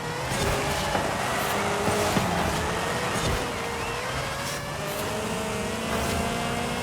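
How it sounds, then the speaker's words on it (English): A Nissan S-Cargo van with a 6-speed gearbox drones continuously in Forza Horizon 5, its engine note holding steady with rising and falling tones as it revs through gears, no talking. "Do you hear the engine note?"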